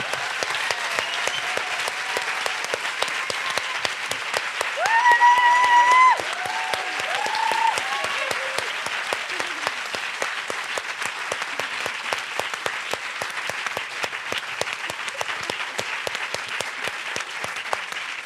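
Steady, dense applause from a studio audience at a French talk show, continuing at an even level throughout with a brief louder swell near the middle and a few whoops.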